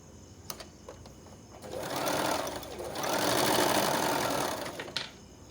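A sewing machine stitches a diagonal seam across fabric strips for a blouse tie, whirring in two sustained bursts with brief pauses and clicks between them, close and moderately loud.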